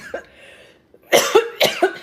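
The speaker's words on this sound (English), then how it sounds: "I keep coughing." A few coughs close up: a faint one at first, then two quick pairs of harsh, throaty bursts after a brief pause.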